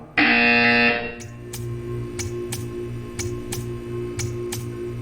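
A buzzer tone from the video game Portal 2 sounds loudly for about a second, then gives way to a steady low hum punctuated by regular ticking clicks.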